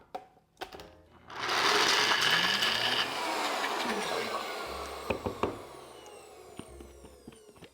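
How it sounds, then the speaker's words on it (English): A blender whirs loudly for several seconds, pulverizing cashews into a smooth cream for a plant-based cheesesteak sauce. Its motor starts abruptly after a quiet moment, holds a steady grinding roar, then eases off with a few knocks at the end. "We're just gonna blend this right now until those cashews are completely pulverized"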